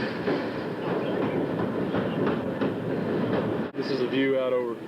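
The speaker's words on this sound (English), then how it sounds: "we're now on the Peak tram, headed up to Victoria Peak" The Peak Tram climbs toward Victoria Peak in Hong Kong in the evening, a steady rumbling rail ride with rhythmic wheel clatter close by, running throughout, with voices talking over it near the end.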